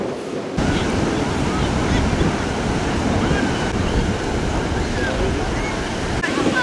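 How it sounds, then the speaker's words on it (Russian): Strong wind roars continuously against the microphone at a Los Angeles beach, mixed with the broad wash of surf, loud and steady after a brief quieter start. "Ух, ветер как дует, а?"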